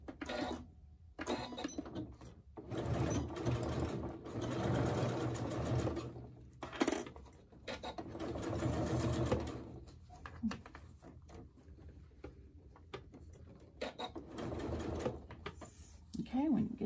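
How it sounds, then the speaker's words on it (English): A sewing machine stitches a half-inch seam on a crossbody bag, running in several loud whirring bursts of steady rapid stitching separated by brief pauses, close by. "you're going to go ahead and do another half inch seam right there"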